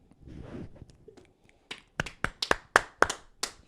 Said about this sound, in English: Wait, you guys clap.